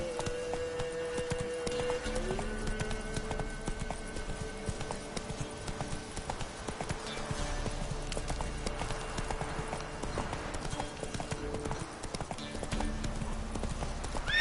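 Horse hooves clip-clop at a steady walking rhythm, fairly close and continuous over a low background.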